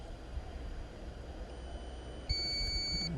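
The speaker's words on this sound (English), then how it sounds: "I'm just going to turn that beeping down" A drone's electronic warning tone during a roof inspection in Walsall, starting suddenly partway through as a steady, loud high beep over a constant hiss of background noise.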